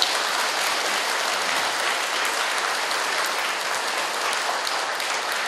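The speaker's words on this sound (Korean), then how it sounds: "박수 한번 부탁드립니다" Dense, steady applause from a congregation at a Buddhist Buddha-statue consecration service, a loud, uniform roar of many hands clapping that holds evenly for several seconds without talking.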